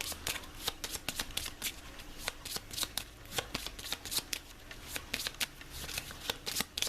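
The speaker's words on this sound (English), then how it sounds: "Okay, let's shuffle." A deck of playing cards being shuffled up close in a board game session, a rapid run of crisp riffling snaps and flutters with no talking.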